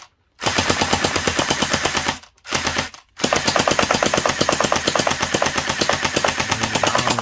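A mini AK-47 gel blaster fires on rapid in loud, dense automatic bursts, with two brief pauses before the continuous rattling resumes close up.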